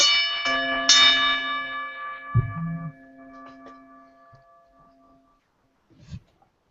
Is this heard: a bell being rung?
yes